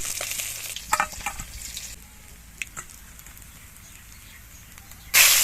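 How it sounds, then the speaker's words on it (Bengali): Fish frying in oil until reddish-brown, heard as a close, steady sizzle. Clinks and scrapes of a spatula lifting pieces from the pan come through, and the sizzle dies down briefly before a sharp burst at the end. "মাছগুলো এরকম লাল করে ভেজে নিয়েছি, এবার তুলে নেব।"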